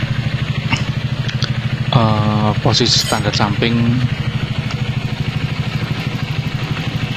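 A motorcycle engine idles steadily on its side stand, producing a continuous low throbbing hum while someone speaks briefly over it.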